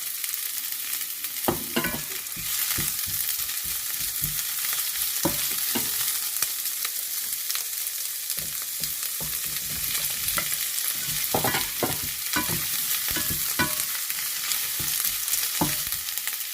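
Ginger and shiitake mushrooms stir-fry in a pan with a steady sizzle and repeated close scraping and clattering of a spatula in irregular bursts, with no one talking.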